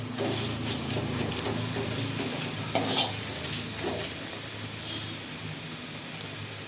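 Masala spice paste fries over low to medium heat in a pan for Bengali echor chingri, with steady soft sizzling and occasional scrapes and clinks of a spoon against the pan.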